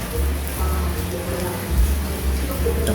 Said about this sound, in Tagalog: Sarapan naman kumain ngayon kasi maulan